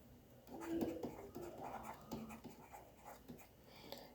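Pen scratching across paper while accounting figures are written down, soft irregular strokes close by with a faint breathy background and no speech.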